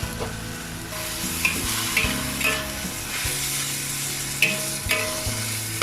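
Dried tofu and chayote shoots are stir-fried in a wok, producing a continuous loud sizzle with rhythmic spatula scrapes and tosses at close range, without speech.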